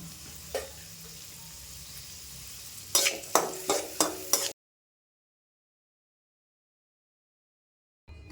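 Onion frying in a spoonful of ghee for mutton fry, a faint steady sizzle with a few sharp stirring scrapes and knocks near the end, then the sound cuts to silence before a brief return.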